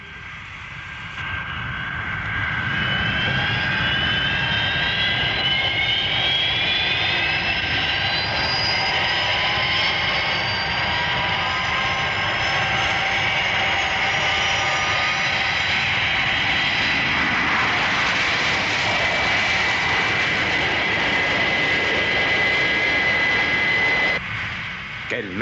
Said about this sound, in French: Décollage effectué en excellentes conditions.